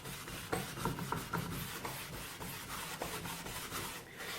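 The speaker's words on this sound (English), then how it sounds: "I use a mixture of half methylated spirits and half lacquer thinners, and then I just give this a good rub down." Painted wood being rubbed down by hand with a mix of methylated spirits and lacquer thinners to lift paint stripper residue, a steady close scrubbing rasp with repeated strokes and no talking.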